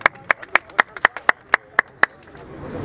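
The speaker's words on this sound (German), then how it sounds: "gibt's mal einen kleinen Applaus" Sparse, evenly spaced hand claps at a political rally in Berlin, about ten sharp claps in quick succession, moderately close, then fading into low background noise.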